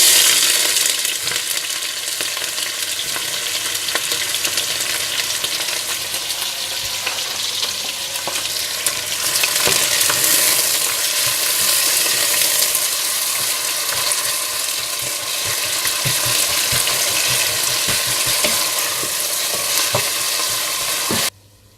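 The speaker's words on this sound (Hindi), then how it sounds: "फिर इसमें प्याज डालकर अच्छे से गोल्डन ब्राउन कर लें।" Onions fry until golden brown in a loud, dense, steady sizzle with faint stirring scrapes underneath, holding evenly for about twenty seconds before stopping abruptly.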